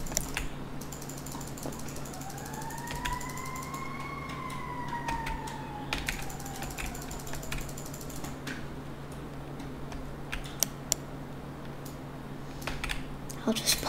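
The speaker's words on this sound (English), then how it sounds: "There's an ambulance going by right now." An ambulance siren passes at a distance, its wailing tone rising and then falling away over several seconds, under a steady mechanical hum and occasional clicks.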